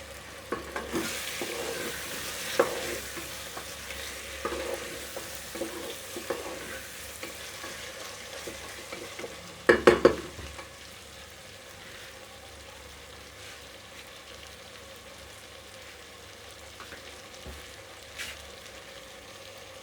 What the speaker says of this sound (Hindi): हमने चिकन को थोड़ा ब्राउन करना है।